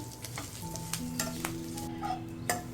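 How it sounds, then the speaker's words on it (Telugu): Curry leaves fry in ghee in a pan for a spicy curry-leaf powder, giving a soft, steady sizzle broken by several clinks and scrapes of a stirring spoon. No voices are heard. "ఇప్పుడు నెయ్యి వేసుకుంటున్నాను కరివేపాకు వేయించుకోవడానికి"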